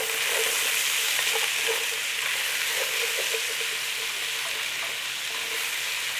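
Chunks of lean beef and onion sizzle steadily in a hot pan for beef and bean chili, a close, constant hiss and crackle with no talk.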